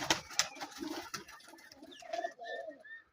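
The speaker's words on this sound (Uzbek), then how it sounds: "mana shu kaptarlar" Pigeons kept by a hobbyist breeder coo in a close, steady series of soft throaty calls, with faint chirps and rustling between them and no talking.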